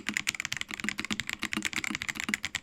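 Rapid typing on a stock computer keyboard before any modification, a dense run of close, crisp keystroke clicks with no talking.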